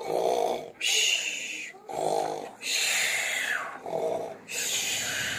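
A voice imitates snoring: several rhythmic, raspy inhale-and-exhale snores in a slow, repeating cycle, close and fairly loud.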